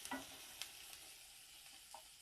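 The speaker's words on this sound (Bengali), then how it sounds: "পেঁয়াজ আর কাঁচা লঙ্কাটা এইভাবে আমি কিভাবে ভেজে নিচ্ছি সেইভাবে ভেজে নিতে হবে" Onion and green chili frying in a pan, a soft continuous sizzle with occasional light scrapes and stirring clicks, quiet and close with no talking.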